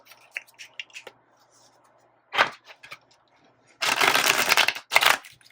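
Playing cards shuffled by hand in two brisk riffling bursts near the end, preceded by a few soft taps and rustles in an otherwise quiet room.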